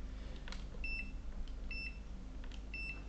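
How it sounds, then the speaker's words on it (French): A multimeter in continuity mode, used to test a laptop motherboard, gives three short high electronic beeps at an even pace over a faint background hum. "Là, on est en mode bip."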